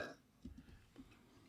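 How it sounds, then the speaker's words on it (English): A short, quiet burp, low and rumbling, lasting about a second and heard close up. "That's a good burp"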